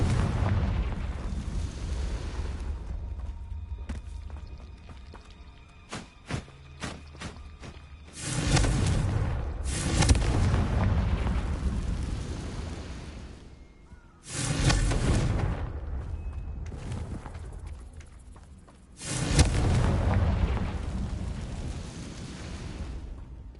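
Confringo fire spells exploding in Hogwarts Legacy, four loud booming blasts with long rumbling tails, spaced a few seconds apart, with quieter crackling and clicks between them.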